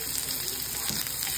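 Chopped onion dropped into oil on a hot tawa for pulao sizzles and crackles loudly and evenly, close up, for a short burst with no talking.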